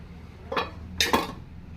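A metal lid set onto a cooking pot of garelu pulusu, one soft clatter followed by a brighter double clink a half second later, close and brief in a quiet kitchen.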